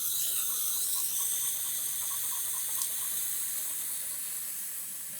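Water runs through a Dosatron Venturi dog-washing system in a steady, bright hissing gush that stays even and close, fading slightly toward the end, with no one speaking.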